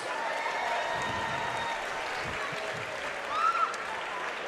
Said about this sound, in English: a round of applause for both of these athletes, please.